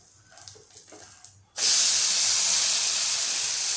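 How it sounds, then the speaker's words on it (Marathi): Ghee hits a raw banana thalipeeth in a hot pan, bursting into a loud, steady sizzle that runs on unbroken after a quieter stretch of low kitchen noise. "पलटवायच्या आधी मी एकदा या बाजूवर थोडंसं तूप घालणार आहे"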